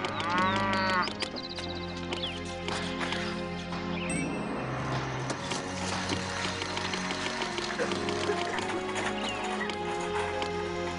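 Cattle lowing in the Master of Atlantis strategy game, a few drawn-out moos alongside horse clip-clops and a looping melodic music bed, clean and synthetic-sounding.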